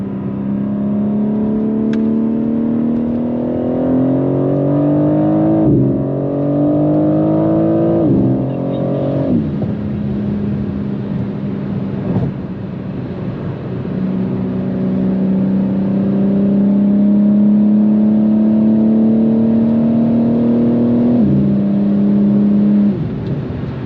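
BMW G82 M4 accelerating hard on the road to overtake another car, its engine note rising steadily through the gears with brief dips at the shifts, loud and continuous from inside the cabin.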